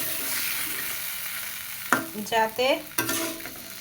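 Potatoes and vegetable stems fry and are stirred in a pan, a steady sizzle broken by a few brief scraping clatters near the end, with a short spoken word.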